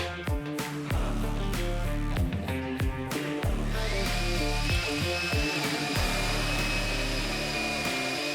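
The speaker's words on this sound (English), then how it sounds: "So we start out with a 17/64 drill for a 1/4 inch tap drill size for the tap." A power drill with a 17/64 bit whines steadily, its motor pitch holding through a series of sharp bursts, then a thin high squeal as the bit cuts a hole for a 1/4 inch tap.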